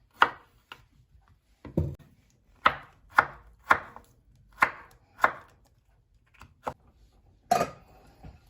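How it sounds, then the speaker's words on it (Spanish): A knife chops zucchini on a board for pumpkin soup: about a dozen crisp, close cuts in an uneven rhythm, some single and some in quick pairs, with quiet gaps between. "Ahora vamos a cortar el calabacín."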